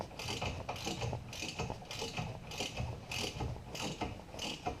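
A ratchet clicks in steady repeated strokes, about a dozen bursts, close up and fairly loud, tightening brake bolts on a 1970 Chevy Camaro.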